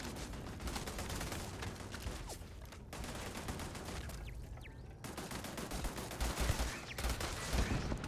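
Turret gunfire in the Starfield game, a continuous rattling barrage of rapid shots filling the scene, briefly pausing twice before resuming with heavier low thumps near the end.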